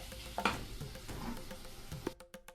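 Chilli, garlic and turmeric powder sizzling in a pan over low heat while being stirred, a steady close frying hiss with a few scraping stir strokes, fading to quieter crackles at the end.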